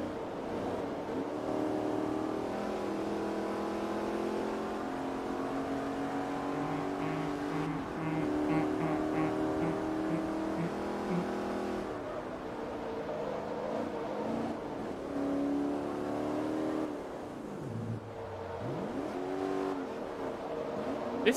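A Firebird Trans Am engine in the racing game Forza Motorsport 3 drones and revs steadily, the pitch climbing and dropping through gear changes with a brief dip near the end, fairly quiet and continuous.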